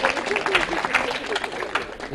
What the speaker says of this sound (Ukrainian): Прошу аплодисменти.